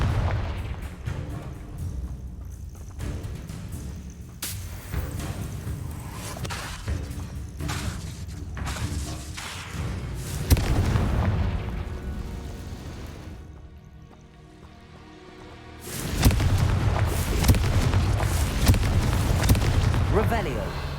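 Confringo fire spell explosions in the video game Hogwarts Legacy, a dense stretch of rumbling booms and blasts amid battle noise, dipping briefly before another loud burst of explosions, with a voice casting.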